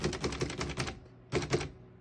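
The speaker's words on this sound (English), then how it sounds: "We're going to keep it on single and finish typing." A 1937 Remington Deluxe Noiseless portable typewriter being typed on, giving two quick bursts of soft, muffled keystrikes close by, a steady run of clacks followed by a brief pause and then a few more.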